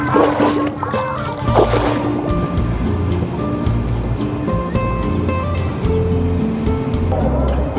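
Nile river water splashing and sloshing at close range, a steady churning wash mixed with other background noise and a faint hum throughout.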